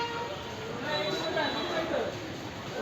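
A passenger train pulls away during a pilgrimage trip, giving a steady, moderately loud rolling rumble under people talking nearby.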